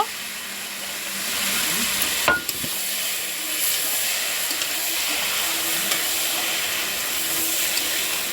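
Boiled whole mung dal being stirred into a sizzling pan with other ingredients, a constant hissing sizzle with a brief sharp scrape of the spoon early on, close and steady.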